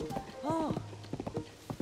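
Horse hooves clip-clop in The Legend of Zelda: Tears of the Kingdom, a run of quick, light hoof beats under a brief whinny-like tone, with a voice talking over them.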